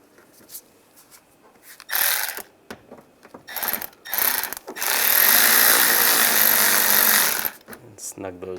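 Ratchet wrench tightening screws on an air deflector of a 1999-2005 Volkswagen Jetta, with bursts of rapid ratcheting clicks building into a sustained loud, close whirring run before stopping.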